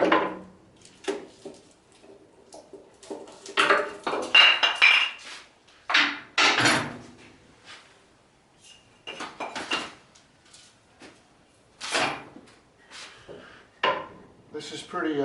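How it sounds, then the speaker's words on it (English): Clamps loosened and pulled off a glued-up guitar body blank in a workshop: a series of close metallic clinks, knocks and scraping clatters in irregular bursts, with someone speaking between them. "It's just a matter of loosening everything up on each clamp and taking it off."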